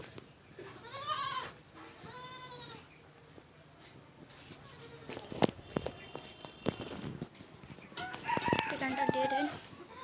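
A rooster crows twice in a rural home yard where chickens are kept, with one call early and one near the end. Scattered clucks, knocks and other farm-animal sounds fill the gaps between the crows.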